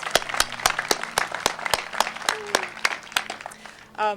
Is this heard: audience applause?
yes